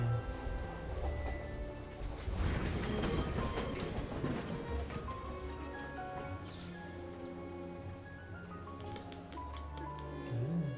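A tram ride in the Syberia 4 video game rolls on with a steady mechanical rumble and rhythmic rail clatter, a busier rattling stretch early on and faint tonal music layered over it.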